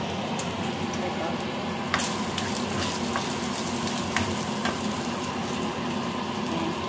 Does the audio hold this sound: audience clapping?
no